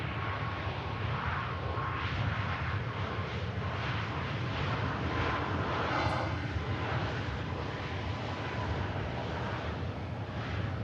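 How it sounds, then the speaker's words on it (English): A Ryanair Boeing 737 airliner rolls out after landing at Manchester Airport, its jet engine roar a steady, moderately distant broadband rush that holds evenly throughout with no talk. "Rolling out there, the Ryanair 737."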